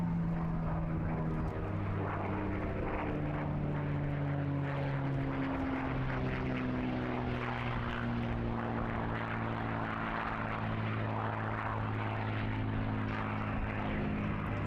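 A propeller-driven heritage aircraft departs an airshow, its engine drone steady and loud while the pitch glides slowly downward as it pulls away, with no talk over it.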